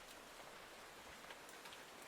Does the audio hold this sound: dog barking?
no